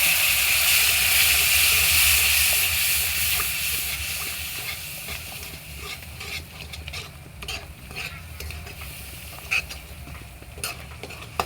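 Water poured into a hot pan of oil with chili powder, cumin and green chilies sets off a loud, steady sizzle and hiss that slowly settles into quieter crackling, with a few sharp pops near the end.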